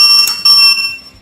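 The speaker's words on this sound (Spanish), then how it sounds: "Escucho los 2 pitidos y ha sido exitoso el grabado del recorrido" Two electronic confirmation beeps from an FD-SLI6 sliding gate motor, a loud high-pitched tone sounding twice in quick succession and then fading, with no talk over it.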